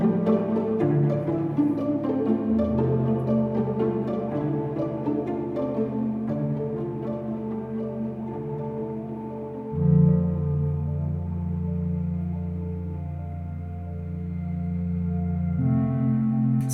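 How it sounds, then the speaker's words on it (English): A melody doubled on the Arturia Piano V3 software piano over sustained low-end synth layers, bathed in heavy reverb, playing steadily and fairly loud for the whole passage with a swell near the middle. "I doubled the top line with a piano."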